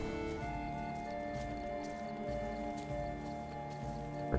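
A horse gallops in The Witcher 3 video game with quick, regular hoofbeats over a soft musical drone, steady throughout and ending in a brief sharp accent.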